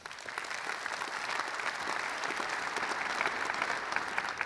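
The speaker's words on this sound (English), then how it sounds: "So, round of applause for Jeff." A conference audience at closing remarks bursts into sustained applause, a dense, even wash of many hands clapping that holds steady for several seconds with no speech.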